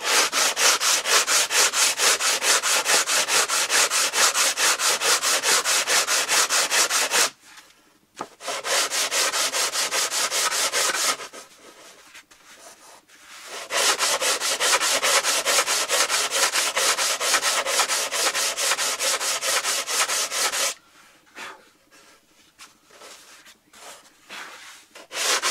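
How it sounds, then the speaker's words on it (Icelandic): Sanding the wooden parts of a Kwik-fli Mk III model airplane, loud and close, in long continuous rasping strokes broken by a few short pauses, with no talking. "pússað þetta"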